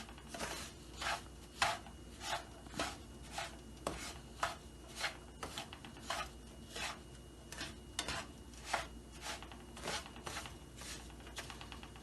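Semolina halwa is stirred in a pan over low heat, making soft, rhythmic scraping strokes about once a second over a faint sizzle, with no talking.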